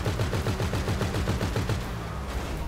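Rapid automatic gunfire in GTA V Online during a heist, a dense run of loud, evenly spaced shots that continues for most of the stretch before easing off near the end.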